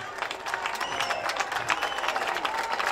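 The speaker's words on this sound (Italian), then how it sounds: "fatevelo voi l'applauso perché siete una marea in questo" A large crowd at a Matteo Salvini political rally in Dolo, Veneto, claps steadily, with dense rhythmic applause and scattered shouts from the square.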